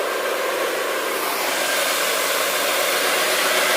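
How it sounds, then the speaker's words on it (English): A counter-rotating brush carpet cleaning machine runs with no suction, giving a steady, loud broadband whir that holds evenly throughout, close by and alone. "No suction on that whatsoever. This is just counter-rotating brush."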